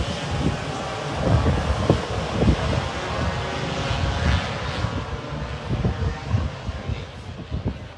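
Stock scooters pull away on a sighting lap at the Pembrey race circuit, their engines making a continuous, rising and falling buzzing drone that stays loud throughout, with no talk over it.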